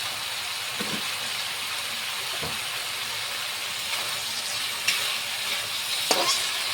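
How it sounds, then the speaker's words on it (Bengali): Spice masala with tomato fries in an iron pan for a Bengali fish curry, giving a steady close sizzle broken by a few soft scrapes and knocks of a stirring spoon; no one talks. "লোহাতে এবার আমার মশলা কষানো হয়ে গেছে"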